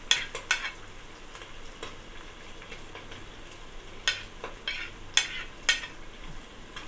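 Carrots stir-fried for fried rice: a soft background sizzle broken by sharp, irregular scrapes and clinks of a utensil against the pan, close, with no one speaking.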